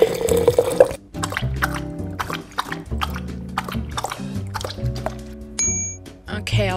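Water pours for a dog in a blindfold video game, making repeated liquid trickling and dripping sounds mixed with busy game tones and effects, with a short bright chime near the end.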